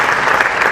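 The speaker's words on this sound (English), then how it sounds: "So round of applause for them." A short, dense burst of audience applause, a steady wash of many hands clapping at once without pause.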